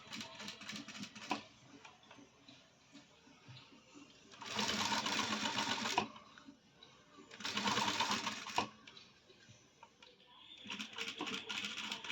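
A sewing machine stitches piping onto a blouse in two loud, steady bursts of rapid rattling, each lasting a few seconds, with quieter handling clicks and rustles between and around them.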